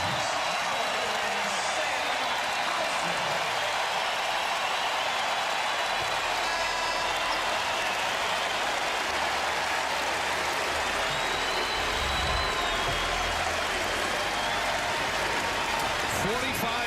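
A packed arena crowd at a men's college basketball game between Buffalo and Marquette gives a long, steady standing ovation, a dense wash of clapping and cheering that stays constant throughout, with a commentator's voice heard over it.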